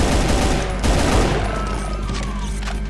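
Rapid gunfire in the video game Brutal Doom, a loud, dense burst of automatic shots with booming low end that fades into a ringing tail.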